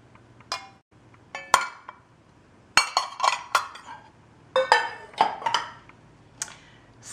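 Kitchen measuring cups, including 1.5-cup, 3/4 and 2/3 sizes, clink and clatter against each other in several short, sharp bursts separated by brief quiet gaps.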